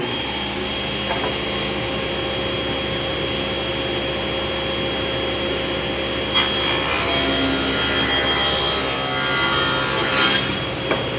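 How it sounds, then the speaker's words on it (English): A table saw rips narrow strips of wood stock, keeping up a steady loud whine and hum that grows harsher and brighter partway through the cut and settles back near the end, with no voices over it. "Be sure and use a push stick and exercise all caution at the table saw."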